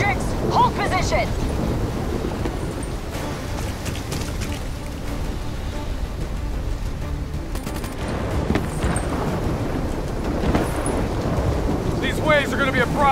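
Superstorm wind roars and thunder rumbles in the shooter game Call of Duty Black Ops 3, a dense, steady wash of noise with scattered cracks and bursts throughout.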